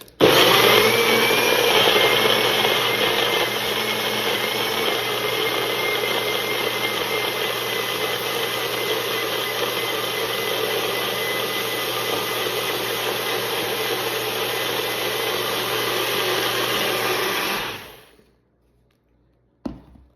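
A Magic Bullet blender whirs loudly and steadily as it mixes a drink, a continuous motor roar that runs nearly eighteen seconds before cutting off abruptly into silence, followed by a small click.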